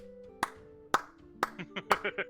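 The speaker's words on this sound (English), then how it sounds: "clapping and enjoying" Several sharp, separate handclaps from players at a tabletop game session, spaced about half a second apart and then coming faster, with a voice talking over them.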